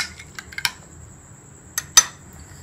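A spoon stirring a custard milkshake in a glass gives a few light metallic clinks and taps, two of them sharper, over quiet background, with no talk.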